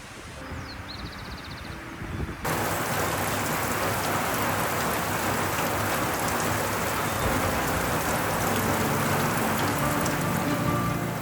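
Heavy rain pours down on a river island in Argentina during a storm, a dense, steady hiss of drops on surfaces that swells suddenly after a quieter opening and then holds loud and continuous, with no voices.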